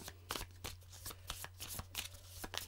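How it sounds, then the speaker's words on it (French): Tarot cards shuffled by hand, close and quiet, in a quick irregular run of soft papery riffles and taps over a low steady hum. "comme d'habitude, on mélange nos cartes."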